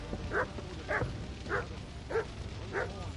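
A dog gives five evenly spaced barks, each short and moderately close, over a low background hum at a rave, with no talk during the barks.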